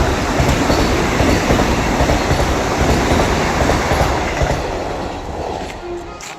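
A passenger train runs on rails nearby, a loud, steady rumble with clickety-clack wheel noise and faint squeals that eases off slightly toward the end.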